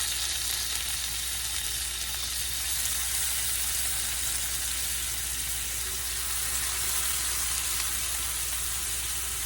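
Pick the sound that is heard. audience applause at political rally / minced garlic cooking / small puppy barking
minced garlic cooking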